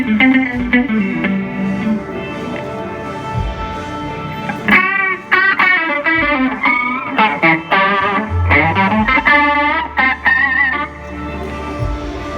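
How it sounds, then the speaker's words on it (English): Electric guitar through a Whammy pedal's chorus function gives a shimmering, wavering tone, with sustained chords giving way to quick warbling bends and runs, loud and unaccompanied. "It also has like a cool chorus function."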